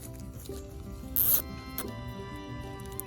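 A zip tie ratchets tight around a bag wrapped on a pecan branch for air layering, a short close zipping burst in the middle over quiet background hum.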